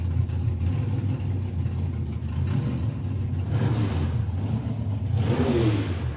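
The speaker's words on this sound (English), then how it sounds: "Lee with the Dark Horse Mustang." A Dark Horse Mustang drag car in the Super Pro class at a national finals event accelerates, a steady mid-pitched engine roar that rises and swells toward the end at moderate distance.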